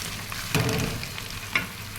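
Onion frying in a pan gives a steady close sizzle, with two sharp stirring scrapes roughly a second apart.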